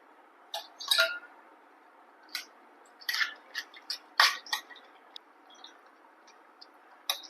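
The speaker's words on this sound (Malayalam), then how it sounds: "കുറച്ചും കൂടി വെള്ളം ഒഴിച്ചിട്ട് അരിച്ചെടുക്കുക" Extra water poured through blended lemon pulp while straining lemonade makes scattered drips, small splashes and light clinks against a container, sparse and fairly close over a quiet background.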